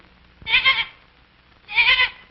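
Goats bleat in two loud, close bursts about a second apart, each a wavering, nasal cry with quiet pauses around them.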